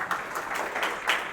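Brief, fairly quiet clapping from an audience at a talk in Accra, a short scattered patter lasting about a second.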